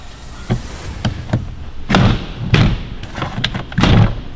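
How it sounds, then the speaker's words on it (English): Plastic push clips popped up and the top cowl pried loose under the front trunk of a Tesla Model car, a series of close, sharp snaps and thuds at irregular intervals. "To do so, you're going to pull up on the push clips"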